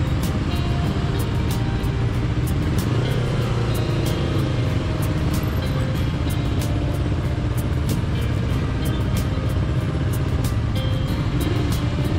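A car creeps slowly through a traffic jam, heard from inside as a steady, loud low engine and road rumble with faint rhythmic ticking over it, and no talking.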